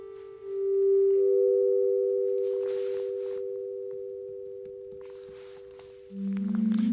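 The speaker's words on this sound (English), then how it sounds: "But I say we stick to the sine wave." A steady, pure sine-wave tone from a Waldorf Blofeld synthesizer hums for several seconds, briefly shifting pitch, with a lower tone entering near the end.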